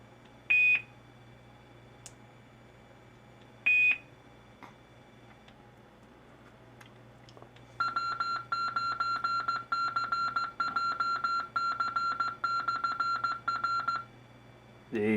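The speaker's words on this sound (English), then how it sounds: "Now we'll test out the courtesy beep here." Two short electronic beeps from a radio repeater's courtesy tone sound about three seconds apart, followed by a long run of rapid, steady tones over a low hum.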